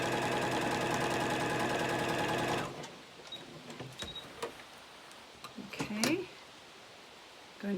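Sewing machine stitching quilt strips in a fast, steady whir for under three seconds, then it stops abruptly, leaving faint fabric handling and small clicks.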